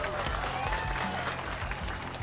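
Warm applause from a crowd welcoming a guest on stage, steady dense clapping that stays loud and even throughout with no break.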